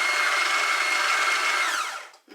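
An electric hand mixer runs steadily through wet and dry oatmeal chocolate chip cookie dough, a loud continuous whir that winds down and stops near the end.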